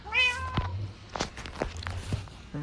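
A cat gives a clear, close meow at the start, followed by a few softer chirps and short calls over light background noise.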